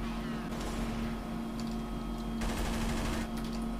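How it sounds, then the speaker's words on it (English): Gunfire in the game Counter-Strike: Source, with bursts of rapid automatic fire rattling under steady background game noise, moderately loud. "He's gonna shoot you!"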